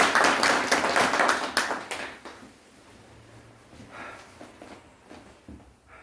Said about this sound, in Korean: 박수 쳐봐.